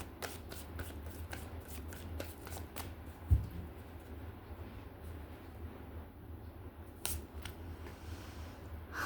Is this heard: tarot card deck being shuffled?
yes